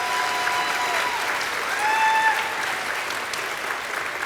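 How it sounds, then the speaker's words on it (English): Sustained audience applause at a nurse pinning ceremony, a full, even wash of clapping with a few thin whistles or cheers rising briefly in the middle. "we deserve a round of applause"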